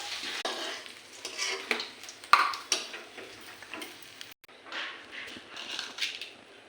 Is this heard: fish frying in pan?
yes